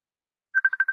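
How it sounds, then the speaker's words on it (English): Phone ringing with an incoming call: a short burst of rapid, evenly pulsed electronic tones at a single pitch, clear and close after a moment of silence. "I'm getting a phone call."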